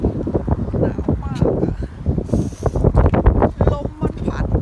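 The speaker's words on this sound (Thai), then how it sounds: "ลมมันพัดอ่ะ" Cold, gusty wind at about minus two degrees buffets the microphone outdoors on a shopping trip, a steady low roar with rises and falls under ongoing conversation throughout.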